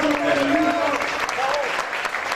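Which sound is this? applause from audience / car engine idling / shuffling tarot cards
applause from audience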